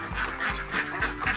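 Laying ducks quack while queuing to eat. Four loud, close quacks repeat at a steady rhythm over a busy background of more ducks.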